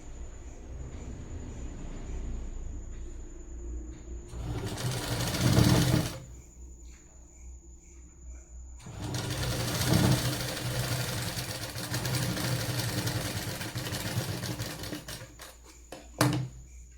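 Domestic sewing machine stitching a hook strip onto a four-tuck blouse, running in close, loud bursts of rapid needle whirring at about 4.5–6 s, 9–16 s and a brief spurt near 16.5 s, with quieter gaps between.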